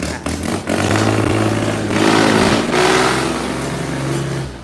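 A used three-cylinder, four-wheel-drive tractor with eight forward and eight reverse gears revs hard. Its loud, close engine roar climbs and holds steady for several seconds with a rough, clattering edge.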